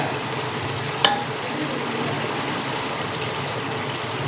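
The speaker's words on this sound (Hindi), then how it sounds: "इसके अंदर हम 250 ग्राम जो है ना ये चिकन का कीमा डालेंगे" Raw chicken mince, about 250 grams, dropped into a simmering gravy in a pan, one soft thud followed by a continuous low bubbling sizzle and faint stirring.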